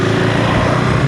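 A 2025 KTM 390 Enduro R single-cylinder motorcycle engine revs just off idle with a fuel controller fitted, a close, steady buzzing drone held briefly without voices.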